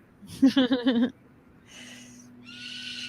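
A pet bird calls indoors with a loud, rapid burst of trilling, hooting notes, followed by quieter, scratchy sounds and a faint steady hum.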